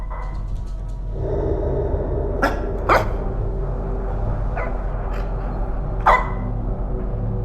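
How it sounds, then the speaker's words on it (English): A dog barks in a horror video game. A few sharp barks and yips land over a low, rumbling ambient drone, with louder single barks scattered through the scene. "There's the dog."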